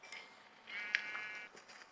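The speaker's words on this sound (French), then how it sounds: "je ne vais pas tuer tous ces moutons parce qu'ils donnent pas grand-chose en fait" A Minecraft sheep gives a single short, nasal bleat near the middle, fairly faint and clean against quiet game ambience.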